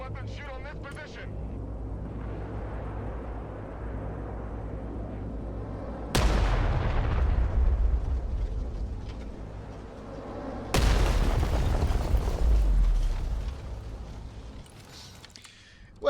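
Weapons fire and explosions in the video game Broken Arrow during an invasion scenario: a low rumbling barrage with two heavy booming blasts that swell and decay, under radio-style voice chatter.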